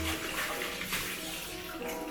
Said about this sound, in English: Clean out your bucket.